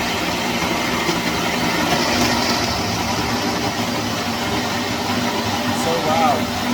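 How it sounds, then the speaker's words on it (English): A Ninja blender runs continuously at high speed, a steady whirring motor drone with rough mechanical texture that holds at a constant level throughout. "We are using a Ninja blender."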